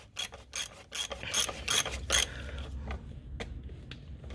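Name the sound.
screwing oil filter housing back in on Nissan Qashqai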